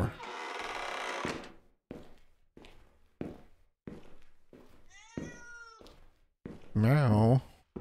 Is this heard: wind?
no